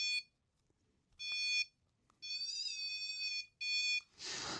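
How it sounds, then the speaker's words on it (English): A handheld motion detector alarm emits loud, shrill electronic beeps in separate bursts of varying length, then a brief burst of hiss at the end, heard up close in an otherwise quiet room. "So the idea is you place this somewhere and it flashes and beeps if it detects somebody near it."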